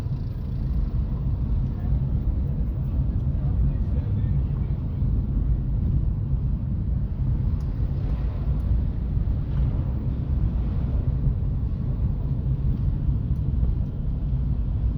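Heavy car traffic moves along a busy town street in Ermenek, Turkey, a steady, dense low rumble that fills the whole stretch without letting up, with some wind buffeting the microphone.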